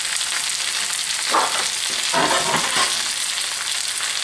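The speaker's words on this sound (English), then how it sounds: "You hear that popping from the liquid in the onions?" Onions and grated hash browns fry in a pan with a steady, dense sizzle, crackling and popping from the onion liquid, close by, with a few louder stirring scrapes and no talking.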